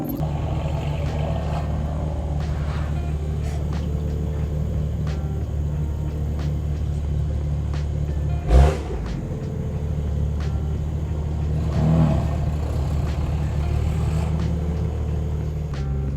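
A BMW M4 with catless downpipes and a Bootmod3 stage 2 tune cruises, its exhaust a steady low drone heard from inside the car, with one brief thump midway and a slight swell later on.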